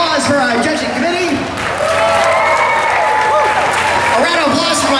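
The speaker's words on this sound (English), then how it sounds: "A round of applause for our judging committee" Sustained applause from an audience at a comic con costume contest, loud and continuous for several seconds, with an amplified announcer's voice running over the clapping.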